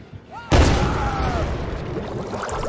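A sudden loud, booming axe throw in the video game Dead by Daylight, like a shotgun blast, followed by a sustained noisy rumble with faint tonal sweeps.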